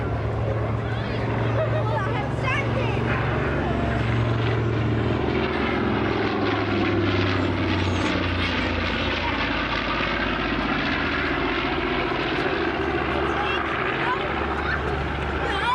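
A 1944 North American B-25J-20 bomber flies at an air show with a loud, continuous droning roar from its piston engines and propellers, while a commentator talks over the sound.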